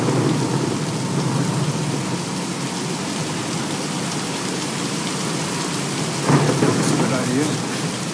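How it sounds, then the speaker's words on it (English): Thunderstorm with heavy rain in the video game Tomb Raider: a steady broadband downpour throughout, with a louder rumbling thunder swell near the end and no talk over it. "let's wait out the storm."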